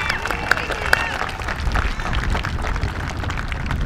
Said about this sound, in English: a huge round of applause for the people that donated for our students